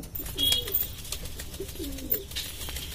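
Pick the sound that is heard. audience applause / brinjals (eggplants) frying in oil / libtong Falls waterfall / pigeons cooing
pigeons cooing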